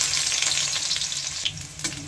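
Garlic fries in hot mustard oil, a continuous bright sizzle with a few light stirring scrapes, close and alone.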